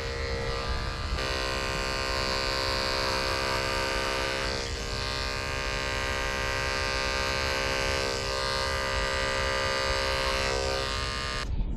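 Electric clippers buzz steadily as they trim an animal's tail hair for show, a close, continuous hum with slight shifts in pitch as the blade moves through the hair.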